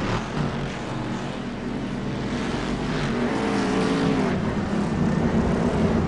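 Race cars roar around the track in iRacing, a dense, continuous engine wash with passing cars blending together.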